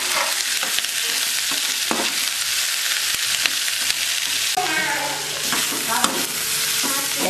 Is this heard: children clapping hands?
no